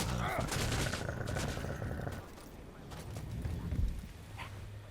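Turret gunfire in Deathloop, rapid bursts of shots crackling through the first two seconds and returning in a louder volley near the end, mixed with game ambience.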